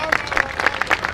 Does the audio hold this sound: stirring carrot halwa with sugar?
no